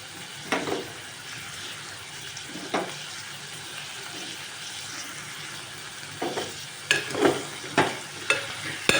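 Mint leaves go into hot oil for Telugu-style dalcha, giving a soft steady sizzle with scattered scraping stirs that grow busier and more rhythmic toward the end.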